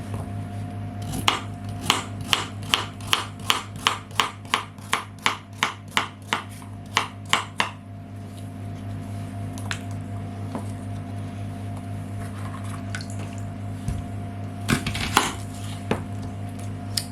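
A knife chops an onion into rings on a board, with about twenty quick, regular, crisp strikes up close. Then there is a steady hum with a few scattered taps and a short clatter near the end.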